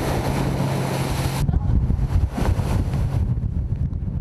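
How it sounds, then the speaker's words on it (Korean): On the East China Sea, rough waves and strong wind batter the yellow croaker fishing boat Daeyangho: a loud, continuous roar of wind and crashing water, with a steady low drone underneath at first. "바다는 거친 파도와 강한 바람으로 대양호를 맞이했다"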